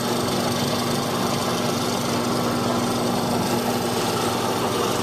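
A drill press fitted with a square mortising chisel cuts a mortise in wood, giving a continuous loud motor whine and grinding hum that holds steady throughout with no pauses.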